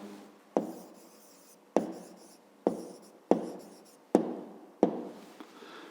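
A pen writes numbers by hand on paper, six distinct scratchy strokes, each starting with a tap and trailing off, spaced about a second apart, close and clear with no talk.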